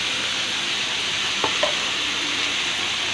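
Cabbage, carrot and capsicum stir-frying in a pan, with a steady broadband sizzle and a couple of brief utensil scrapes near the middle, close and alone.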